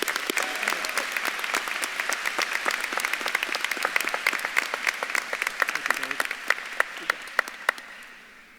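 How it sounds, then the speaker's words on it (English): Audience applause at a university social work commencement ceremony, a steady wash of many hands clapping for a speaker coming to the podium, dense at first and thinning to a few scattered claps before fading out. "you're all clapping your hands"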